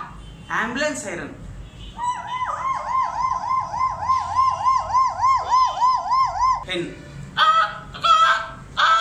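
A mimic's voice imitates an ambulance siren, a close, loud wailing tone that rises and falls in a rapid, steady cycle for several seconds, with brief vocal sounds before and after.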